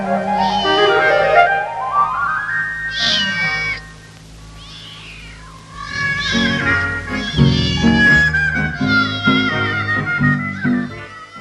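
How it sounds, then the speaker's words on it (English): A Siamese and English tabby cross cat meows loudly and repeatedly, drawn-out wavering cries close by, broken by a short quieter pause before another run of insistent meows. "This cat is the great-granddaughter of a Siamese and an English tabby, with others of the same strain."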